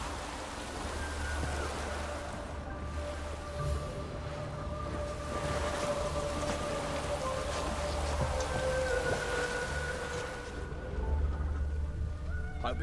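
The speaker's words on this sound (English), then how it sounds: "Hope it rains like this come sowing time." Steady rain pours throughout in The Witcher 3: Wild Hunt, a dense continuous hiss of drops on surfaces with low rumbling underneath, heard alone without talk.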